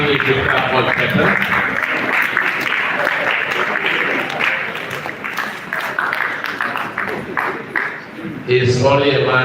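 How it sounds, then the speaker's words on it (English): Audience applause at a Directors Guild of Nigeria master class, a dense, sustained wash of clapping from a full room that runs nearly throughout, with a speaker's voice cutting in briefly near the end. "So put your hands together for me once more."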